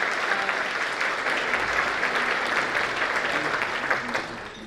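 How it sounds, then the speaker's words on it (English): An audience at a public safety and community appreciation luncheon claps in sustained, dense applause, loud and steady throughout before beginning to taper off at the end. "give them all a round of applause"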